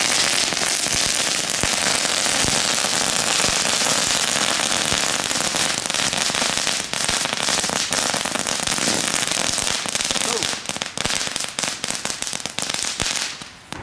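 A Lidl crackling firework shot goes off outdoors, giving a dense, continuous, loud crackling of many tiny pops that lasts about fourteen seconds before thinning out slightly at the end.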